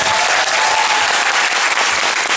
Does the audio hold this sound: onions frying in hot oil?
no